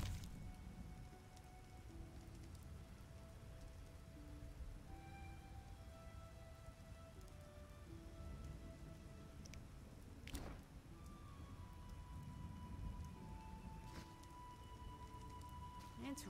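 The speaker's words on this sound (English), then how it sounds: "It's raining." Steady broadband rain hiss with scattered drops in The Witcher video game, quiet and continuous, under game-like tonal chimes and a few sharper splashes.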